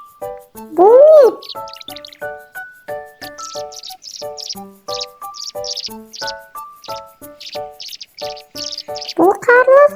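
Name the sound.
swallow call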